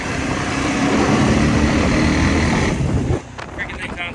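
A Honda DCT motorcycle engine roars loudly at high revs under heavy wind buffeting, then drops off abruptly near the end.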